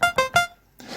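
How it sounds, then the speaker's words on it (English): A Korg Volca Keys synthesizer plays a broken chord pad in unison mode, with three short, bright, buzzy stabs in quick succession followed by a brief softer noisy tail. "And for the Volca Keys, I want to create a kind of a broken chord pad."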